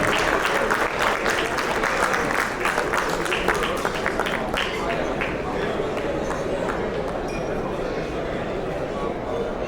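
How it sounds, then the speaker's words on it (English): Steady, dense applause from an audience at an annual get-together award ceremony, continuous clapping throughout with faint crowd murmur, some voices talking underneath. "Give a round of applause, ladies and gentlemen."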